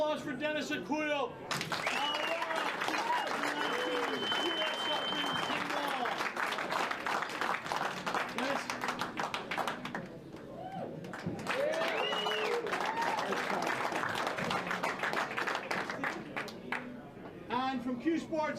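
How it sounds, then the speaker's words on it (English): Crowd applause at a pool hall for pool champion Dennis Orcollo after the US Open 10-Ball final in Las Vegas. Dense, steady clapping fills the whole stretch, with a brief dip midway, and a voice speaks over it. "Ladies and gentlemen, we have a nice round of applause for Dennis Orcollo."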